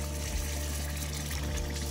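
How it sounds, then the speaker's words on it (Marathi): Hot water is poured into a pot of chicken rassa curry, a soft, continuous liquid pour. It sounds fairly faint against a low steady hum, with no talking. "आता जे गरम पाणी आहे ते ऍड करायचं आहे"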